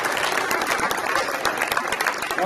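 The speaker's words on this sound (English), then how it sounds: "All right, one round of applause again" A crowd at a high school signing day gathering claps in a short, dense burst of applause, with scattered voices mixed in.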